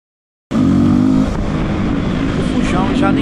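A motorcycle engine roars loudly and steadily during a police chase in Brazil, kicking in abruptly after a short silence, with its pitch shifting slightly as it runs and voices faintly underneath.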